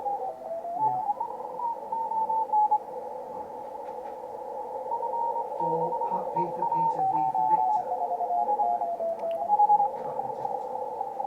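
A shortwave ham radio receiver on the 40-metre band hissing with band noise while a thin, warbling voice of a station calling CQ drifts in and out, steady and continuous throughout.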